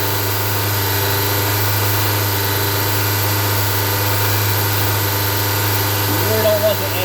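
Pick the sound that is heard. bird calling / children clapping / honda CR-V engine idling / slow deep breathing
honda CR-V engine idling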